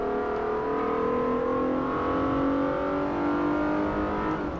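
Racing car engine in a Renault showcase race in Forza Motorsport 4, holding a steady loud high-revving drone throughout with rising and shifting pitch, close and continuous with no talk.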